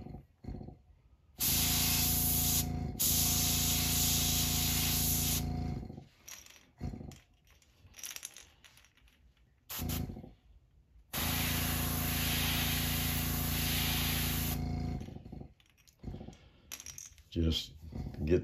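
An airbrush sprays paint onto a custom bluegill-pattern glide bait, giving two sustained, close hissing bursts of several seconds each with quieter gaps between.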